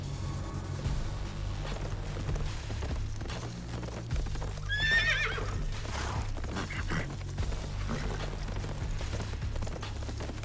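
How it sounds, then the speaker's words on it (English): A horse in a video game neighs sharply and clip-clops over a steady low droning background, the whinny standing out clearly midway through. "A horse is charging right at me."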